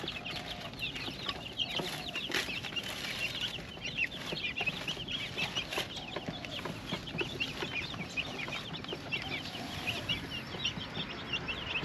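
A flock of chickens clucks and chatters continuously at close range, layered calls overlapping without pause.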